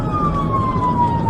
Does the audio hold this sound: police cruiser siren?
yes